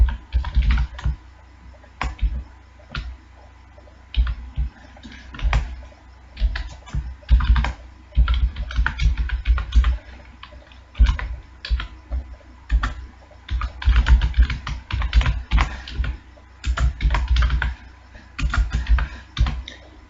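Computer keyboard being typed on while writing C program code, a steady stream of close, uneven key clicks and taps with brief pauses, continuing for about twenty seconds without speech.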